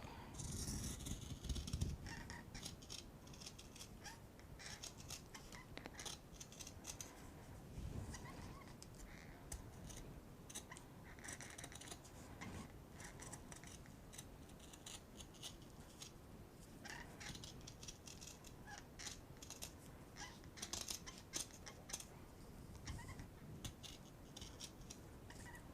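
Scissors trim fabric and stuffing for a handmade bench pillow, a steady run of close crisp snips and rustling material filling the whole stretch, with a few louder clips early on and no talking.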